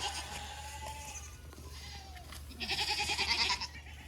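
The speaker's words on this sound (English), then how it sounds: "The little goats are trying to escape." Faint bleating from young goats over a low steady background hum, growing into a louder burst of high, wavering cries toward the end.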